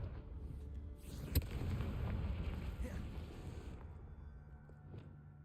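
A Confringo spell blast in Hogwarts Legacy, cast during a boss fight: a sharp, loud bang followed by a sustained rumbling fiery roar that slowly fades over several seconds, with faint game noise beneath.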